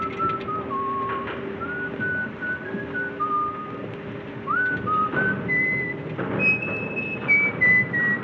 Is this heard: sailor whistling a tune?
yes